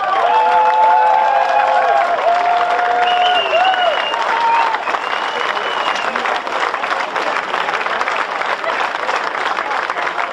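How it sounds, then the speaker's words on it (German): Audience applause at a Sunday village fair (Kirmes) in Deepejassen, a steady dense wash of clapping and crowd noise lasting throughout, with faint whistles or tonal sounds early on. "Ja, komm, euer Applaus, euer Publikum"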